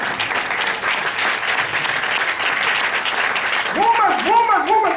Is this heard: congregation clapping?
yes